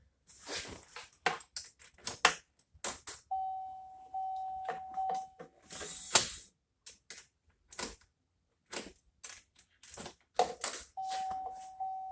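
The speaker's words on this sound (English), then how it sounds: "Okay, chase the threads, install the battery, time to bolt the seats in." Hand tools clicking and tapping in short irregular bursts while seats are bolted into a 1989 Volvo 760 Turbo during a rebuild, with a steady electronic beep tone sounding twice in the background, close and fairly quiet.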